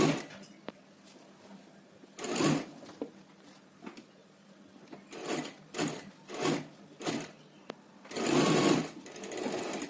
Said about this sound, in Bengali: এবার চেন পট্টিতে একটা চাপ সেলাই দিয়ে নিচ্ছি